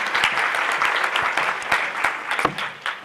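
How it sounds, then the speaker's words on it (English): An audience claps for a speaker at an event, a dense burst of applause filling the room for a few seconds with no voices over it. "give them a round of applause"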